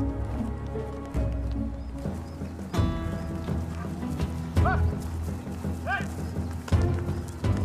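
Horses of Spanish conquistadors in the Americas clip-clop with hoof strikes and a brief whinny, moderately close, layered under a sustained musical score.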